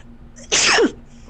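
A single sharp sneeze, close and loud, bursts out during a tabletop role-playing game session in an otherwise quiet room.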